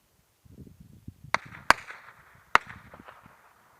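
Sharp cracks of gunfire and incoming rounds in a frontline trench near Zaitsevo, three loud snapping reports over a rumbling low background, with muffled movement between them.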